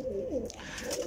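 Pigeons on a rooftop give a brief, soft, throaty coo, close by and fairly quiet, lasting about a second.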